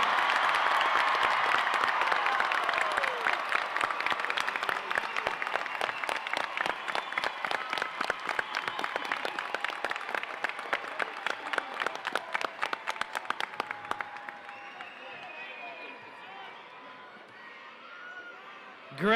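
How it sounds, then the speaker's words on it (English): High school graduation audience applauding and cheering for the class of 2024, a dense roar of clapping with whoops that gradually thins and fades toward the end, a few voices calling out over it. "a big round of applause for the class of 2024"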